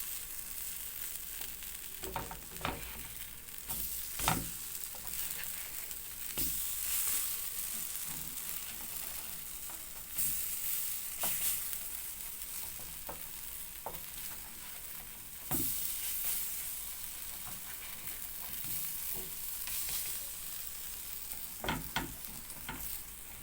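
A pan of harcha semolina cakes with cheese and olives fries with a steady bright sizzle, broken now and then by soft knocks and scrapes as the cakes are turned.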